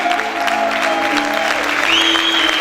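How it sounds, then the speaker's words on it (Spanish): A church congregation applauding in praise, steady dense clapping filling the room throughout, with sustained tones of music or voices running underneath. "Fuerte el aplauso al Señor en esta hora."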